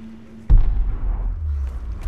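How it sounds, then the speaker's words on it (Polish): A single sharp gunshot blast in Tomb Raider: Definitive Edition, a sudden loud boom with a heavy low rumble that lingers and decays over a couple of seconds, following a quiet hum. "O, strzały."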